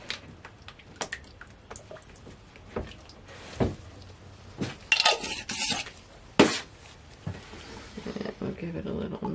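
Caribbean Teakwood cold-process soap batter is stirred in a container, with scattered clinks and scraping knocks, a few louder bursts, and quiet stretches between.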